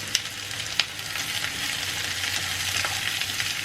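Pumpkin pieces frying in hot oil in a pan, a steady bright sizzle with a couple of sharp clicks near the start as the food lands, no talking.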